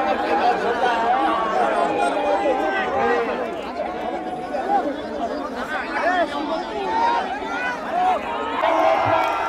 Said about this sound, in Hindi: कितने लोग का भीड़ लगी पड़ी है